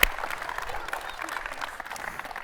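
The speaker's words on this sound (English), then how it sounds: "please give me a round of applause for Hunter Henry." A camp audience gives a round of applause for Hunter Henry at a coaching camp panel, a moderate wash of clapping from a crowd, with a voice talking over it.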